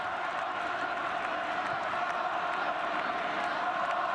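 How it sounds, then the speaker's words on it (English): Stadium crowd at a Barcelona football match roaring and cheering for Eric Abidal as he warms up, a dense, steady wall of noise with no break throughout. "That's as big a cheer as any of the 5 goals so far."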